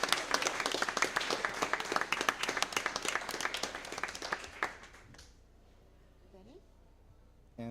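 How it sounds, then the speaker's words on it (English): A crowd at a school board meeting applauds a student performance with steady, dense clapping for several seconds before it fades out into near quiet. "Let's give them a big round of applause for their performance."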